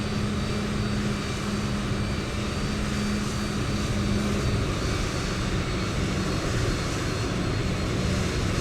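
Boeing 787 engines spooling up for takeoff in Microsoft Flight Simulator, a continuous loud roar with a steady hum beneath it, holding evenly throughout with no talk.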